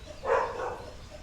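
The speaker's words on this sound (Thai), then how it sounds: "โอ้ยมันจะเห่าแรงนะนี่" A single short dog bark rings out once, fairly close, against a quiet background.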